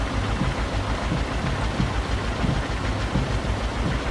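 Steady rain patters continuously over an old Polish farm in Farming Simulator 22, a dense even hiss with a low engine hum underneath.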